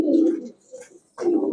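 Racer pigeons coo close by in a shop, giving two low throaty coos separated by a short pause.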